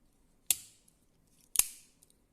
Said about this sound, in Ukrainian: Щелчки просто фантастичні.